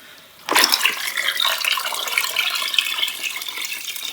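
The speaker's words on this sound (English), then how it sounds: "I'm just going to see what it looks like poured out of the bucket itself." Murky black dye water pours out of a bucket in a sudden splashing gush that settles into a steady, close running flow, heard alone without talk.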